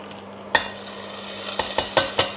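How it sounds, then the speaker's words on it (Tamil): Tempering spices with asafoetida fry in hot oil for sambar, a faint sizzle broken by several sharp clinks and scrapes of a spoon against the pan, close by and without speech. "இப்போ என்னென்னா தாளிப்பு மட்டும் ரெடி பண்ணணும்."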